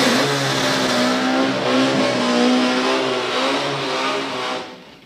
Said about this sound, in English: why didn't you do burnouts like that?